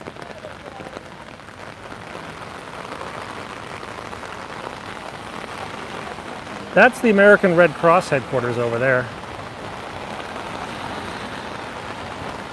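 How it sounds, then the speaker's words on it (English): Steady rain falls on a walk near the White House in Washington DC as a storm approaches, a soft continuous hiss throughout, with someone speaking briefly midway. "It is raining"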